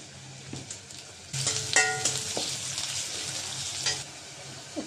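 Chopped onion dropped into hot oil, a quieter sizzle that jumps to a louder, busier frying crackle with some stirring clinks, close by and without talking.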